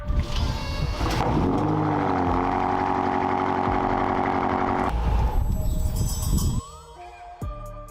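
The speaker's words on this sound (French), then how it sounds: "Vous avez entendu ça? Elle a démarré." A car engine runs with a steady mid-pitched hum and harmonic whine for several seconds, then drops away abruptly, leaving quieter clicks and faint rattles at the end.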